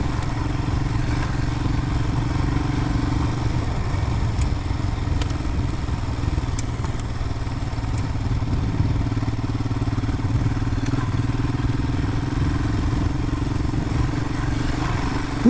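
Royal Enfield Himalayan motorcycle riding over bumpy ground, a steady mid-pitched engine drone with faint clattering thumps from the suspension, close and continuous.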